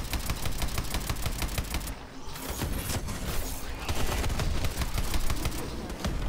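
Rapid, continuous automatic gunfire in Call of Duty Advanced Warfare Exo Zombies, a loud rattling stream of shots with one brief lull before the firing resumes and intensifies.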